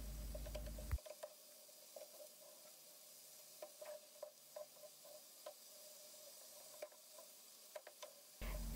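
A sautéed börek filling seasoned with salt and chili flakes is stirred in a pan, with a soft continuous sizzle and light, irregular scrapes and taps of the utensil, close and fairly quiet, with no talk.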